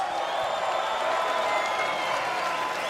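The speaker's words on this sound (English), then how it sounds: "let's have a round of applause for a hard-fought 3 rounds" A crowd at a bare-knuckle fight night applauds steadily after a hard-fought three-round bout, with dense, sustained clapping and light cheering throughout.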